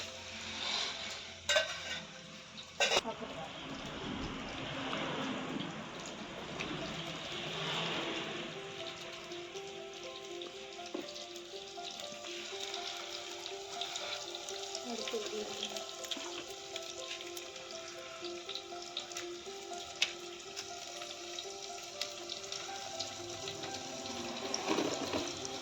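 Onions sauté in a pan for a side dish for chapathi and rice, giving a steady hissing sizzle with occasional stirring clicks, close and continuous throughout.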